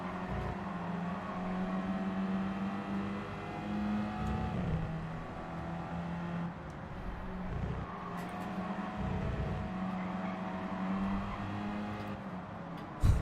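Race car accelerating in Gran Turismo 7, a continuous engine roar that climbs and drops through gear changes, close and steady, with a sharp knock at the end.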